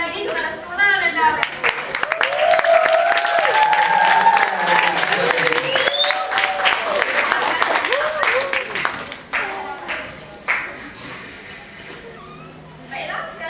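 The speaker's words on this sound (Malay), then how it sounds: "beri tepuk tangan sekali lagi kepada sekolah rendah" An audience claps for primary school children at a school event, sustained loud applause with crowd noise and voices mixed in, fading toward the end.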